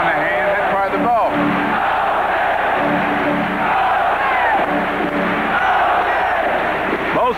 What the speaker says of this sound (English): the crowd is yelling Moses